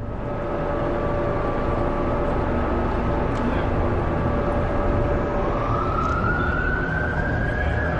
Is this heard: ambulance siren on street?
yes